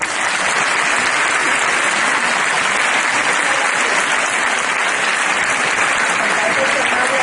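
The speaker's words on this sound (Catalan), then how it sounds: "Un fort aplaudiment per en Pau." Sustained, dense applause from an audience at a sports awards gala, steady and loud throughout with no break.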